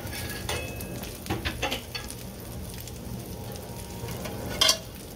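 Eggs frying in a pan, a steady close sizzle running throughout, with a few clinks of utensils and pans and one louder metallic clatter near the end, no voices.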